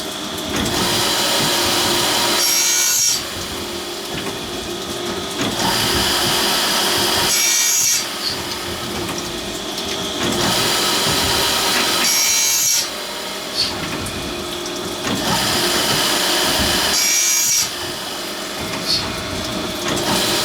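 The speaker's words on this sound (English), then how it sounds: "that's grinding both sides of the tooth. And over the top bevel" A saw sharpening machine grinds both sides of each saw tooth and over a 15-degree top bevel, switching back and forth. Steady loud rasping grind with a brief sharp swell about every five seconds as it moves to the next tooth, no talking.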